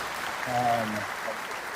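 Applause from a livestream chat audience, a soft sustained patter of clapping heard briefly under a voice.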